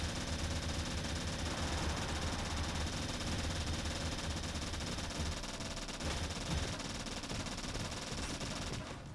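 Rapid, continuous automatic gunfire pours out during a boss fight in the Turnip Boy Robs a Bank video game, loud and dense for about nine seconds before cutting off abruptly.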